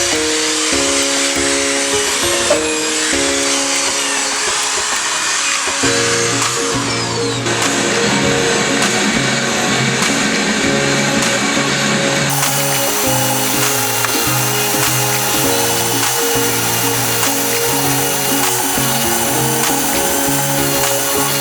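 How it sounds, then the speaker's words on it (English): Loud continuous whir of a power drill spinning a brush, scrubbing the carpet of a 2013 Nissan Sentra at close range, its pitch shifting as pressure changes. "we take the drill brush and we agitate it more to get up the remaining dirt"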